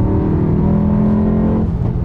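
A car engine, Skoda or Mercedes E63 AMG, roars loudly and steadily close by as it accelerates, a deep, sustained drone that shifts slightly in pitch near the end.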